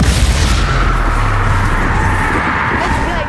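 In Hogwarts Legacy a Bombarda spell blast booms loud and close, a deep rumbling burst that rolls on and fades over a few seconds, with a voice over it.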